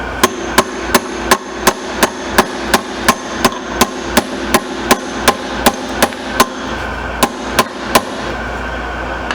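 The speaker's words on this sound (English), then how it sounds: "you can tell how a gas tank sounds if it's full of rust or bad gas" A rusty gas tank on a 1982 Nissan 720 King Cab truck is tapped with a metal tool in a steady run of about twenty dull, stuffy knocks, close and evenly spaced.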